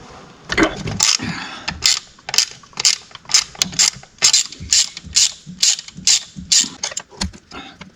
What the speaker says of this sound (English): Remove 6 bolts out of the elbow.